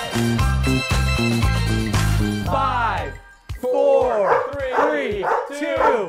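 A dog barks and yips several times in quick bursts close by, following a passage of music, with a person talking at a home beer-brewing setup.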